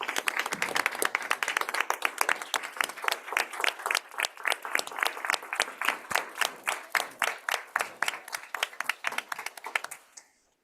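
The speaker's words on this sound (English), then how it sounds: "Let's give them a round of applause" A room of people at a city school board meeting gives a round of applause, distinct individual claps forming a brisk rhythm that gradually thins and stops after about ten seconds.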